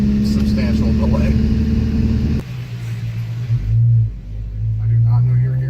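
A modified Ford Focus engine rumbles and revs, a loud low hum that drops off midway and then returns in short swelling revs, with people talking over it.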